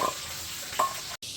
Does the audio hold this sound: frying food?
yes